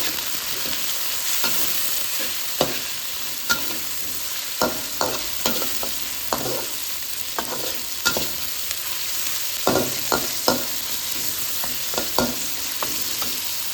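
Soup bones with a little meat frying in a pot while being stirred, with a steady low sizzle and repeated sharp spoon scrapes and knocks against the pot.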